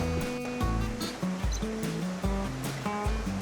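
Water from a stream rushes steadily beside a waterfall picnic spot, close and continuous, with a low roar and splashing that stays even throughout.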